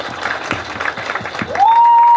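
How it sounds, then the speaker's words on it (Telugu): An audience at a press meet for the film Theracheppa gives a short burst of clapping, close and fairly loud, before a sustained electronic tone takes over near the end. "And big clap for తెరచాపా please."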